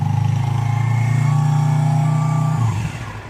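A motorcycle engine idles steadily with a low throbbing hum after the kill switch is turned on, then the tone dips and falters near the end, close and fairly loud with no speech.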